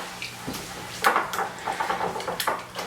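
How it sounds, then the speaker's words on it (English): A metal whisk or spoon clicks against a bowl while egg yolks are broken up and beaten into a melted chocolate and butter mixture for brownies, giving soft, uneven taps that grow quicker and more regular. "Break up my yolks a little bit. And then just whisk it."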